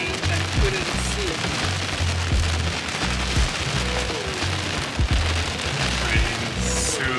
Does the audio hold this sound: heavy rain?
yes